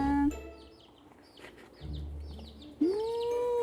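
Chicks cluck and peep softly at close range while a special treat of mealworms is prepared for them. Short, scattered calls are broken by a louder tonal sound at the start and end.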